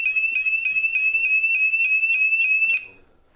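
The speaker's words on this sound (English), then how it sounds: "And the alarm goes off." A SimpliSafe home security alarm set off by its panic button emits a loud, piercing high-pitched siren pulsing in rapid regular beeps, then cuts off abruptly near the end.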